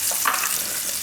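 Curry leaves sizzling in hot oil in a home kitchen, a steady broadband crackle with one brief sharper pop early on, close and fairly loud with no voices.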